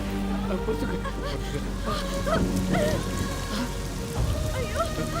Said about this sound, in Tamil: ஐயோ, மழை வர மாதிரி இருக்கு.